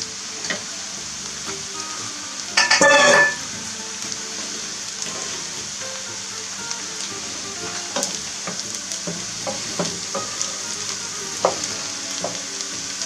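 Mushrooms fry in butter in a pan with a steady close sizzle and crackle, plus a brief louder stirring scrape early on and scattered small pops throughout; no talking.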